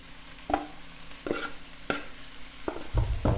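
Food frying gently in a pan over medium-low heat, with a soft sizzle and a few distinct knocks and scrapes as a wooden spoon stirs it, close up with no voices.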